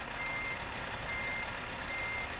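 Lorry reversing alarm in Euro Truck Simulator 2, a steady electronic beeping under continuous engine and road hum, moderately loud and close throughout with no voices.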